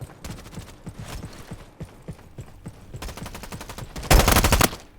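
Rapid automatic gunfire from a Roblox shooting game, loud and close, with repeated bursts of shots and a dense, louder burst near the end, no talking.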